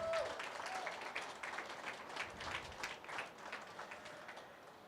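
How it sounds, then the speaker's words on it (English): Faint, distant audience applause at a livestock show ringside during a sheep champion drive, an uneven spatter of clapping that swells and fades over several seconds. "please give them a big round of applause of these breeders for bringing out this quality"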